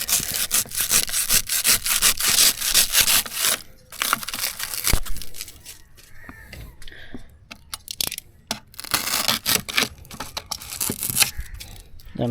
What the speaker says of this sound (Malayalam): ഇത് കയ്യിന് കട്ട് ചെയ്ത് കട്ട് ചെയ്ത് ലെവൽ ചെയ്തെടുക്കാം